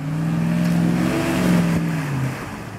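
A car revving and accelerating hard for an off-road run-up, a loud close engine note rising and shifting over nearly three seconds, with no talk.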